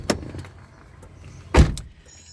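Keyless entry on a Hyundai Eon unlocking its doors: two sharp mechanical clunks from the door locks, the second louder, close by with a quiet gap between them and no talking.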